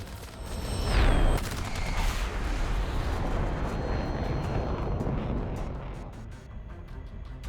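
Dense, continuous gunfire roars through a jet dogfight between Israeli and Egyptian Vampire fighters, opening with a descending jet whine and staying loud and rumbling throughout.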